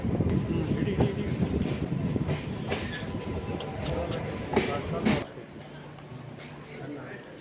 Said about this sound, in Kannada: ನಮ್ಮ ಟ್ರೈನ್ ಈಗ ಈಲಲ್ಗೆಗೆ ಬಂದಿದೆ